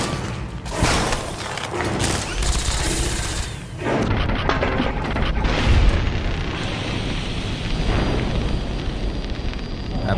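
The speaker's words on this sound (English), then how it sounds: "A pulse grenade." A pulse grenade goes off in Fallout: New Vegas, a loud burst within a dense, roaring wash of game combat noise that stays heavy for the whole stretch, with repeated blasts and crackling gunfire layered throughout.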